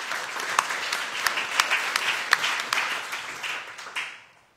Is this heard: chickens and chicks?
no